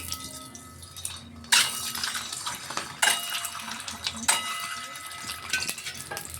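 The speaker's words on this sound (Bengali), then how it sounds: "একে একে করে তেলটা গরম হয়ে গেছে, এখানে আমরা ডিমগুলো ছেড়ে দিলাম" Eggs slipped one at a time into hot oil in a pan, each drop setting off a sudden burst of crackling sizzle, three in quick succession over a steady low fry.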